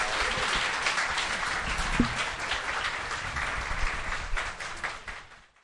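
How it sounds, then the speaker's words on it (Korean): Sustained, dense applause from a panel-show audience, loud and steady, tapering off toward the end. "박수로 한번 내려보내도록 하겠습니다"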